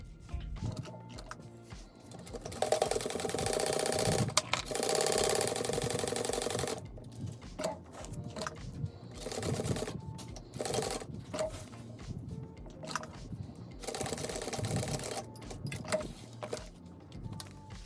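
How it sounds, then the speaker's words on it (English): A sewing machine stitching a seam on a handbag runs in rhythmic bursts of stitching, with short pauses between runs and a steady mechanical whir. "now you want to sew that down at the seam allowance it tells you to"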